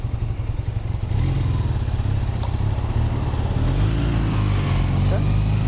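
A motorcycle engine ticks over at idle after a top-end rebuild, a steady low rumble with a fast regular pulse, close and continuous, brief revs lifting it near the start and middle.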